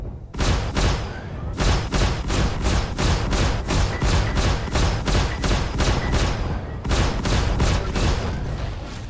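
Spaceship particle weapons in Star Citizen Arena Commander fire in long rapid bursts, dense loud rattling volleys separated by short pauses.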